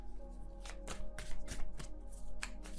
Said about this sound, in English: Can I shuffle?